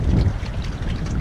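Strong wind gusting across Lake Serre-Ponçon during a perch and pike fishing trip, a loud continuous rumbling buffet against the microphone.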